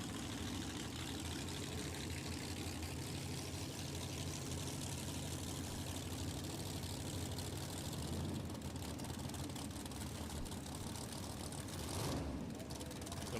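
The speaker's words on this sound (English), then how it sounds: "A 330 cubic inch overhead cam modular Ford V8 with turbocharged" A 330 cubic inch turbocharged overhead cam modular Ford V8 drag racing engine idles and rumbles steadily at a drag strip, a broad, constant engine drone at moderate distance, with an announcer talking over it.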